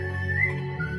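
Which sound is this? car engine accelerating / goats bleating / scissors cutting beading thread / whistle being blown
whistle being blown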